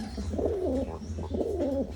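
Breeder's pigeons coo in two close, rolling phrases, a soft throaty warble that rises and falls and then repeats over a low steady background hum.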